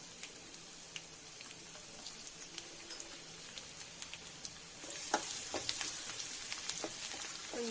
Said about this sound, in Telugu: ప్యాన్ పెట్టుకొని కొంచెం ఒక 2 స్పూన్స్ ఆయిల్ వేసుకొని అందులో వేడెక్కాక వెల్లుల్లి పీసెస్